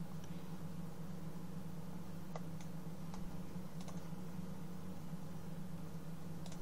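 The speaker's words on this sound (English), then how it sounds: "So I'm pressing F4 on the keyboard right now to tidy that up." Soft, scattered clicks of a computer keyboard being tapped during photo editing, a few isolated keypresses spread over a constant low electrical hum.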